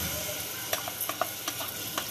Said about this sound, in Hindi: मम्मी से तो मसाला भून रही थी